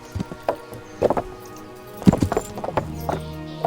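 Horse hooves clip-clopping at a trot in Kingdom Come: Deliverance, an uneven string of close, sharp thuds with a brief whinny partway through.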